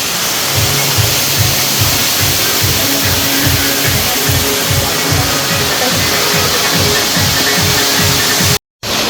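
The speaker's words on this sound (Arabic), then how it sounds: "هذا هو مصيف شلال آشاوة، هذا هو شكل الشلال" Loud, constant roar of the Ashawa waterfall in Duhok, Iraq, dense rushing water noise close by, with a faint rhythmic low thumping underneath and no talking.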